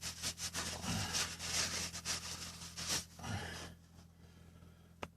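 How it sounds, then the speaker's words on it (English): Cloth rubbing over a Land Rover Series or Defender axle to wipe away excess oil, a close run of rough wiping strokes that tails off into quiet near the end. "Wipe off the excess."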